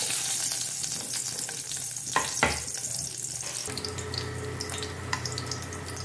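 Garlic sizzles in hot sesame oil for a ragi vegetable soup, a dense continuous frying hiss up close with a couple of sharp clinks and stirring scrapes.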